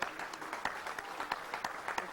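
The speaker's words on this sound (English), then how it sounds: "It's just erupted in applause." Mission control staff break into applause after a comet impact, a quiet, brisk patter of clapping with distinct individual claps, slightly distant and without talk.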